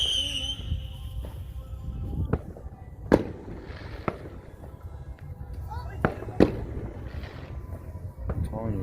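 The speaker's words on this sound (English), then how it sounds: "They got the best fireworks." Fireworks go off with sharp, booming bursts spaced every second or two, some with crackling tails, against a dull roar. People chat throughout.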